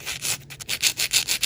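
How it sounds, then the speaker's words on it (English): Glued-on polygel nail tips being filed and reshaped, giving a close, rhythmic scratchy rasp in quick back-and-forth strokes, about eight passes in a second and a half. "Now I'm just going to reshape the nail tips a little bit."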